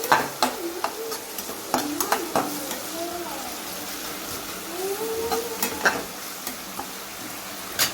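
Vegetables sizzle in a hot pan as they are tempered, a steady frying hiss broken by repeated clinks and scrapes of stirring.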